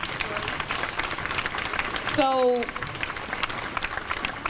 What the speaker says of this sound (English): all right, clap it up,